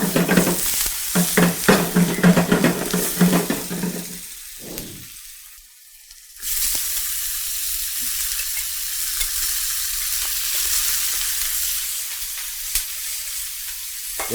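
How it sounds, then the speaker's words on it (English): Two hundred grams of onion and a hundred grams of garlic hitting hot oil, with stirring clatter at first, a brief lull, then a loud steady sizzle that continues to the end. "After pouring my oil, then 200 grams of onion and 100 grams of garlic same time."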